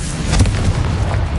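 A Confringo fire spell explodes in the Hogwarts Legacy video game, giving a loud, dense rumbling boom that fills the short moment with little decay.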